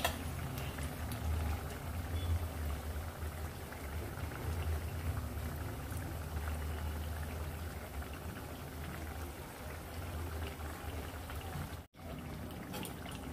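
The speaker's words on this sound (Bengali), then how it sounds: "এটা একটু ভালো করে ফ্রাই করতে হবে যাতে কাঁচা না থাকে" Shola taro fritters frying in oil: a dense, continuous bubbling crackle with a low rumble underneath holds steady and close throughout, with a brief dropout near the end and no talking.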